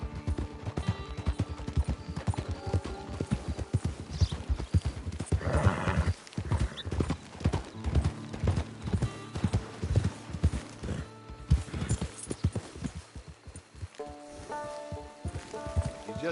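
A horse walks along with steady clip-clopping hooves, close and fairly loud, joined by a brief whinny partway through and faint patter like light rain in the background.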